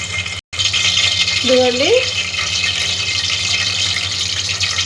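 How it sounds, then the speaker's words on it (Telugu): Oil poured into a heated pan while cooking talakaya kura, a steady hiss with a watery, rushing texture throughout, and a brief spoken word near the start. "దాక వేడెక్కింది. దాంట్లో నూనె పోద్దాం."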